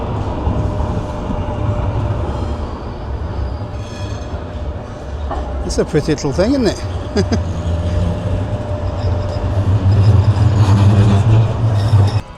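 Sheffield city-centre tram rolling past on its tracks, a loud rumbling drone with a brief wheel squeal in the middle and a rising heavy rumble toward the end, while someone talks over it.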